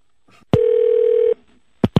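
A telephone keypad gives a single steady touch-tone beep lasting under a second, followed by a couple of sharp clicks from the handset.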